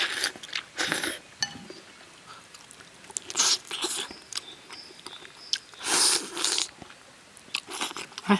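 Braised pork trotter meat is chewed close up, with wet bites and crunchy mastication coming in uneven bursts, some light clinks of dishes between them.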